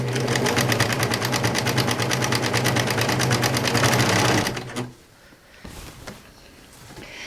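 A serger runs fast and steady while sewing a pillow seam, its rapid, even stitching rattle loud and close for several seconds, then it stops, leaving faint handling noises.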